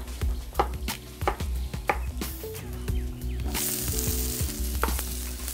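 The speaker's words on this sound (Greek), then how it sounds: "Ρίχνουμε και αυτά στο τηγάνι." Onion, garlic and red, yellow and green peppers frying for a seafood, chicken and chorizo paella, a loud steady sizzle with repeated scraping stirs and clacks of a utensil against the pan, no talk.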